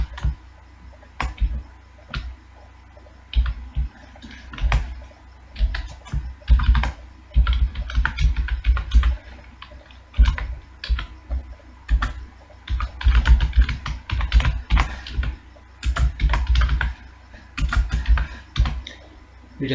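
Rapid, uneven keystrokes on a computer keyboard while a C program is typed, bursts of close, crisp clicks with short pauses between runs, no voices.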